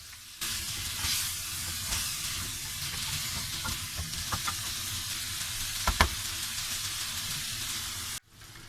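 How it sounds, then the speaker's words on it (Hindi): Potatoes with green chilies fry in hot oil in a home kitchen pan, giving a steady close sizzle with occasional stirring scrapes and pops, cutting off abruptly near the end. "मैं इसे थोड़ा सा आलूओं को भून लूंगी 1 से 2 मिनट"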